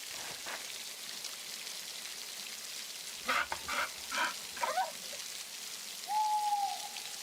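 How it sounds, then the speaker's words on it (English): Rain falls in the 1600s setting of Pentiment, a soft steady patter beneath a few brief hooting calls and a short tonal whistle near the end, all fairly quiet. "It's very cold out here. It's raining."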